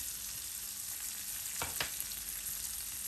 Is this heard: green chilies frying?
yes